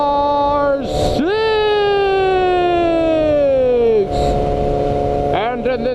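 A loud, close police siren on a Harley motorcycle with blue flashing lights wails behind a Yamaha R6 rider. Long falling wails break into quick yelps, over the rumble of a motorcycle engine.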